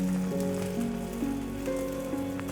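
Moringa leaf crepe batter sizzles steadily in hot oil in a pan, a constant close frying hiss with faint crackles throughout.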